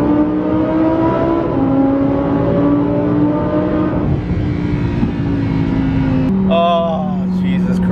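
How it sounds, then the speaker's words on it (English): A 2020 Lamborghini Huracan EVO accelerating hard in Corsa mode, a loud, close engine wail climbing through the revs with a sharp gear change near the end, while someone talks over it. "go into Corsa, drop it a gear, and then disappear."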